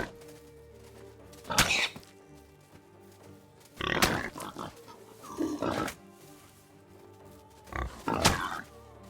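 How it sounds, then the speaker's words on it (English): A pig grunts and snorts in the medieval village-building game Medieval Dynasty, several short bursts spaced a couple of seconds apart, with a quiet voice between them. "there's another pig coming"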